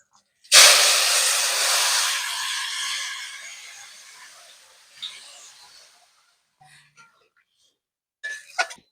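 Cumin seeds and soybean chunks hit hot oil for a soybean curry, bursting into a loud, sudden sizzle that gradually fades over several seconds, followed by a few faint clinks and scrapes.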